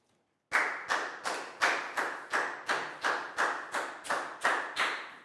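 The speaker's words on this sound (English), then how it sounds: "High five and a big round of applause for Net, please, guys." Classroom of pupils clapping for a student in a Year 4 maths lesson, about a dozen evenly spaced claps in a steady rhythm, each sharp and decaying, close and moderately loud with no talk.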